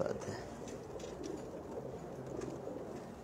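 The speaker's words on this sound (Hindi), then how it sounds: "ये रामपुरी कबूतर है माशाल्लाह से।" Faint Rampuri pigeon coos come and go over a steady murmur of background noise, soft and somewhat distant.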